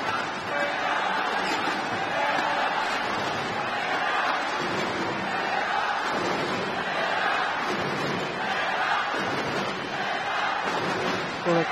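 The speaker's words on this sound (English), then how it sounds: "the crowd chanting Denmark" A crowd at a badminton quarter-final at the Malaysia Open chants in a loud, rhythmic roar that swells and falls, filling the hall, with a commentator talking over it.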